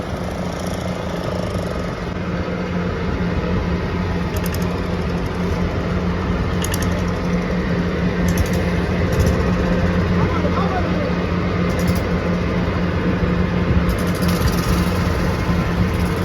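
A boat's winch engine runs steadily and loudly, hauling in a purse seine fishing net, a continuous mechanical drone with periodic higher rattling bursts throughout.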